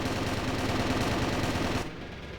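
Sustained automatic gunfire during a competitive Ghost Gauntlet video game match, a dense, loud stream of rapid shots that cuts off abruptly near the end, leaving a quieter background.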